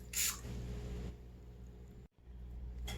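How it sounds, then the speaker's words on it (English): A short hissing burst of cooking spray onto a baking pan up close, followed by quiet background hum and a second brief spritz at the end. "Now to spray the pan."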